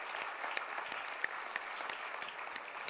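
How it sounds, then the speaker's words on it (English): Conference audience applause, a steady crowd of many hands clapping with a few sharper claps standing out, fairly faint and distant, lasting the whole few seconds with no talking. "give a huge round of applause to the organizers and everyone who's contributed"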